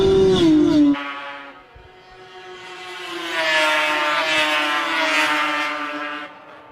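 Racing snowmobiles (power toboggans) at the Canadian Power Toboggan Championships in Beausejour, Manitoba, howling into a turn: a loud passing engine drops away, then a second high-revving whine swells and holds near, with no talk.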